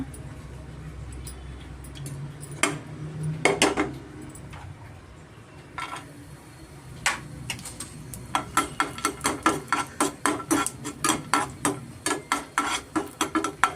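Pistachios sizzle and tick in hot ghee in a pan, with a gentle frying hiss and a steady run of sharp clicks as a spoon stirs and scrapes against the metal, growing quicker and more regular toward the end.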